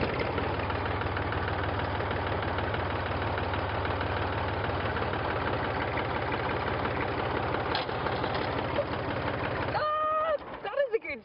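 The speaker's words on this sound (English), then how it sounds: "When I pull back this lever, you should hear a slight change in the tune and the sound of the engine" A restored tractor engine idles steadily and loudly, with a faint shift in its note as the hydraulics lever is pulled back. A brief voice cuts in right at the end.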